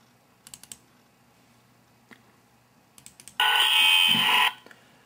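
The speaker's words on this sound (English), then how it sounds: "So that was a startup sound on here" A Kato SD70MAC diesel locomotive sound decoder plays its startup sound: a few light clicks, then a loud, harsh, buzzing burst lasting about a second before it cuts off.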